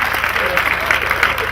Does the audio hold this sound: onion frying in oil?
no